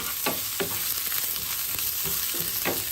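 Gizzard and suya pieces fry with well-sautéed onions in a pan for a Nigerian peppered gizzard snack, a steady close sizzle broken by a few stirring scrapes, with no voices.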